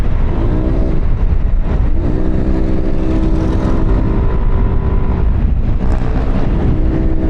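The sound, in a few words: scooter exhaust sound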